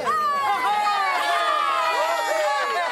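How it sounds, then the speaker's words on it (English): A crowd of friends gives a final cheer in Andalucia, loud overlapping shouts and whoops sustained close by for a few seconds. "Everyone, let's give our friends a final cheer."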